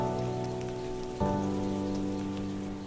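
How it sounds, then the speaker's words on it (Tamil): Chopped garlic frying in hot oil in a pan, a steady crackling sizzle that swells abruptly partway through as more hits the oil, with no talking. "எண்ணெய் சூடானதும் நாம் வெட்டி வச்சிருக்கிற பூண்டை போட்டு பச்சை வாசனை போகிற வரைக்கும் வதக்கிக்கலாம்."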